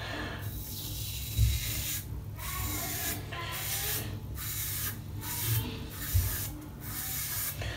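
An ATT R1 Calypso safety razor scrapes across a lathered head, giving a close, steady rasping rub in repeated strokes with brief pauses between passes, no voices present.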